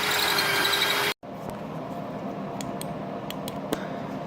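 A drill bores through a Triumph Thunderbird exhaust pipe baffle, a loud, close grinding whir that cuts off abruptly after about a second, leaving a quieter hiss with a few faint high squeaks.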